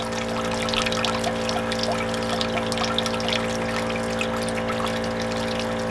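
Water pours and trickles steadily from an RV water heater drain during a flush, a continuous close splashing stream with no voices.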